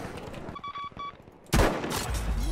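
Rapid Battlefield 5 gunfire erupts as a loud, dense burst after a second or so of short, clipped electronic beeps over a background of game noise.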